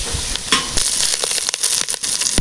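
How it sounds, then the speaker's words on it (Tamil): Sharp crackling sizzle erupts as drumstick leaves hit onion and garlic frying in a pan, with a few stirring scrapes over a loud, close hiss. "இப்போ வெங்காயமும் பூண்டு வதங்கிருச்சுங்க. நம்ம முருங்கை இலைகளை உள்ளே சேர்த்துக்கலாம்."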